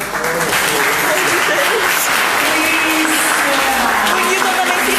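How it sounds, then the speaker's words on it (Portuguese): Audience at a Spiritist talk applauding Letícia, loud sustained clapping close by, with voices and faint tonal sounds mixed in underneath. "nós estávamos de palmas aqui para a Letícia"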